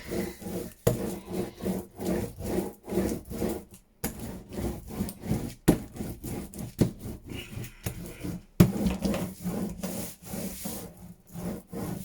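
A brayer rolls back and forth over collage paper on a masterboard, giving repeated scraping, rubbing strokes with short pauses between passes, close and fairly quiet.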